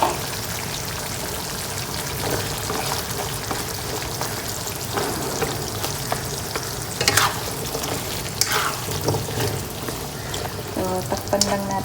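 Squash and string beans sizzle and fry in a pan for ginataang kalabasa with shrimp, a steady crackling hiss with occasional scraping stirs and clinks of a utensil against the pan, close and continuous.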